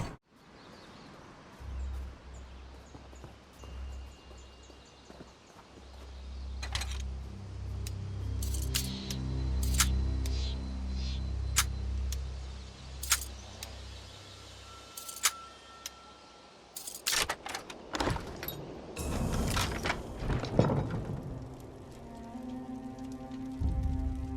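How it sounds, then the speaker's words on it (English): A winch in The Elder Scrolls Online turns to lift a stuck gate: a low, droning mechanical rumble runs under scattered clicks and clanks, followed by a busier burst of metallic rattling and knocks toward the end. "Try lifting the gate while I turn the winch."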